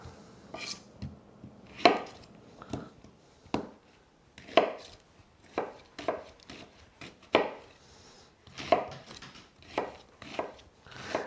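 An onion is cut into big chunks with a knife on a board: sharp chopping knocks about once a second, close and clear, with no talking.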